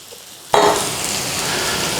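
Onions fry in a pot for a one-pot meat or lamb biryani. After a quiet start, a sudden loud sizzle bursts in and settles into a continuous close crackle, with no talking.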